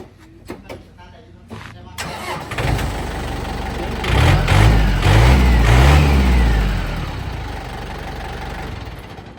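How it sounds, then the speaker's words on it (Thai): A heavy 45-horsepower tractor engine cranks and clatters to life, then rumbles and revs loudly before settling into a steady idle, with a voice briefly heard. "เครื่องดีเจดีเลยลองสตาร์ทฟังเสียง"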